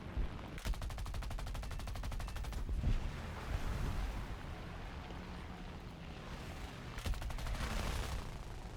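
Machine gun fire from a fighter plane in War Thunder, two quick rattling bursts with rapid even shot rhythm set against a steady engine roar, fairly faint overall.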